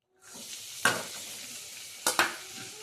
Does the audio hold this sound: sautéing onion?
yes